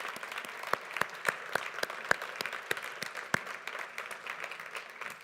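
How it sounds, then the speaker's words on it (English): A conference audience in a hall applauds newly arrived attendees, steady rolling clapping from many hands with a few louder individual claps standing out, heard from a moderate distance. "We're going to give you a round of applause."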